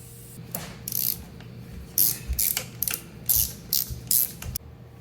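Bursts of ratchet clicking come from a wrench backing out Whitworth bolts on a 1962 Jaguar E-Type 3.8, several short irregular runs of close mechanical ratcheting in a quiet workshop.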